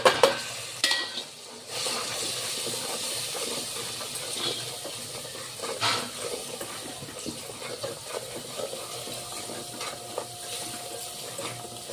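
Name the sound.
masala spices and kasuri methi stirred while frying for khichdi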